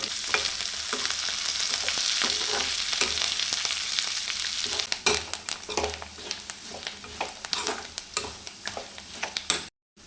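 Dried red chilies and curry leaves crackle in hot oil, a dense sizzle that turns into sharp popping spatters and stirring clicks, close up, before cutting out near the end.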